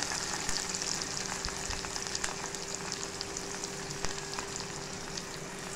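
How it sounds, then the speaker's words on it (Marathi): Chopped onion fries steadily in a pan for oyster masala, a dense, even sizzle with crackling pops throughout, close and alone with no voices. "आता आपण कांदा टाकून घेतोय।"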